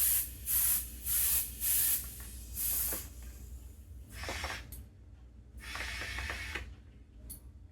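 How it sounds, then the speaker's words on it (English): Old bicycle tire on a donated bike being inflated in short bursts, with rhythmic loud hissing pumps of air followed by fainter hisses and mechanical clicks. "as I'm inflating any of these old tires, I do a little bit at a time"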